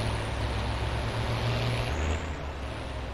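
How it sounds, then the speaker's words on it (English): Low engine drone from a noisy tractor pulling a mower in a farming video game, a steady rumble with a slight pitch shift midway, alone with no talk. "It's a noisy tractor."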